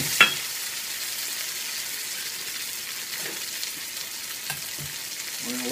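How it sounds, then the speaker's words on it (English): Homemade gnocchi frying with sage in a pan, giving a steady soft sizzle throughout with a few faint clinks and stirring sounds. "Now we're going to throw in our gnocchi that we just made."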